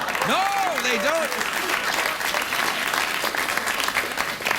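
A late-night TV studio audience breaks into a sustained round of applause with a few whoops, loud and continuous clapping that holds steady throughout.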